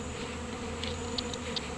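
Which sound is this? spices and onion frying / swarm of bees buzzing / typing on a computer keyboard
swarm of bees buzzing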